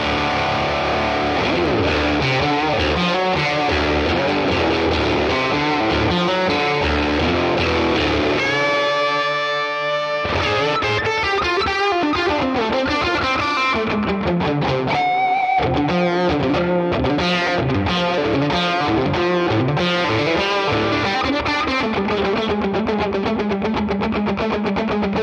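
An electric guitar plays through a Keeley-modded Boss DS-1 distortion pedal into a Tone King Imperial MKII amp model, with crunchy sustained chords, a brief ringing pause, then fast, loud, saturated riffing.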